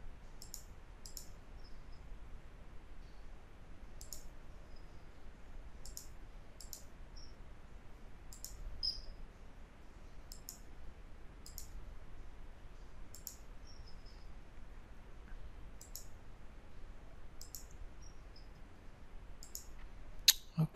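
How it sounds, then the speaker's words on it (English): Computer mouse clicking during Photoshop work, sharp faint single and double clicks spaced irregularly over a quiet background hum, with no voice. "Whenever you get this, just click there, click there, click there."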